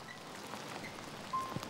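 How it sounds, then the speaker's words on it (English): Rain falls softly and steadily outdoors, a faint even patter of drops on a surface with a few slightly louder splashes, no voices. "Come on, best get out of the rain."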